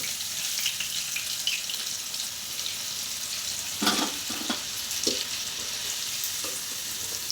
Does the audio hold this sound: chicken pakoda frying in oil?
yes